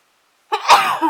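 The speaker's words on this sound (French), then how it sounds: "Je vais éternuer." A single sneeze bursts out after a brief silence, close and loud, with a sharp explosive peak and a trailing breathy release.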